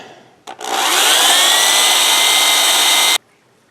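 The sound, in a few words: power drill countersinking a rivet hole in clutch lining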